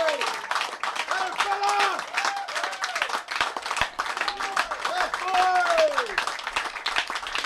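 Spectators at an over-40s Masters cricket World Cup match between Wales and New Zealand applaud a batsman's century with scattered, steady clapping that lasts throughout, while high chirping calls sound over it.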